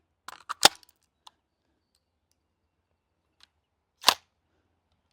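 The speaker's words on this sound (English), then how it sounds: "We got a little jam there. 2 BBs flew out." A GHK G5 airsoft gun fires BBs and jams, giving a few sharp clicks and cracks near the start, a short isolated snap, then one more louder crack after a quiet gap.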